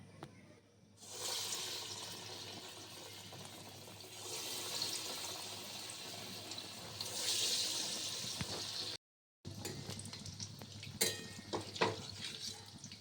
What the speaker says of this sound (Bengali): এবার আমি বড়াগুলো আস্তে আস্তে ভেজে নেব।